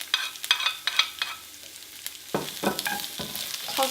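Sliced onion, ginger and finely chopped garlic hit a hot pan for a Sri Lankan dish, sizzling with clattering stirs and scrapes in a quick irregular rhythm, close and clear with no talking.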